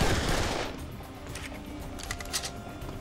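Rapid, sustained automatic gunfire from the Serious Sam 3 co-op shooter, loud and dense from start to finish, with a heavier burst at the opening and no talking over it.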